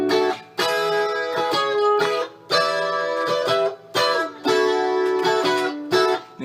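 Guitar plays the intro riff of a song in repeated short phrases with brief gaps between, each chord swelling in volume; no one speaks.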